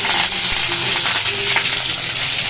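Cumin, mustard seeds, onion, green chilli and curry leaves fry in a pan, giving a steady, close, loud sizzle with faint stirring throughout and no talk.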